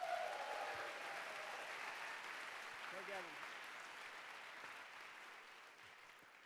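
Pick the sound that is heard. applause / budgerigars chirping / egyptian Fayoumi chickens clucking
applause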